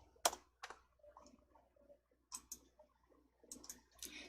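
Several quiet, close clicks of a computer mouse and keyboard at a desk while formatting in Excel, sharp isolated ticks spaced irregularly over a faint background.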